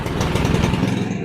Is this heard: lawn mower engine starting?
yes